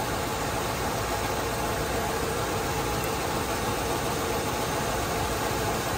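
A classic GM car engine runs on fast idle, holding a steady, even hum with a faint hiss throughout and no talking over it.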